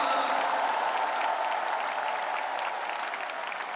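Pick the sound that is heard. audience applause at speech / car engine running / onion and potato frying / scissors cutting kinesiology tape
audience applause at speech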